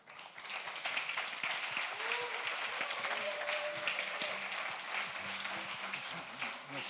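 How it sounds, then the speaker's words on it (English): Steady applause from a conference audience welcoming a speaker on stage, dense clapping sustained throughout with a brief whistle-like tone and some background voices under it. "Applause."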